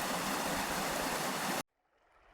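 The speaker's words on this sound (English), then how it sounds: "we see quite a beautiful creek that's flowing very rapidly in this particular time" Brydson Creek rushes loudly and steadily in spring flow, a dense broadband roar that cuts off abruptly after about a second and a half, leaving only faint background.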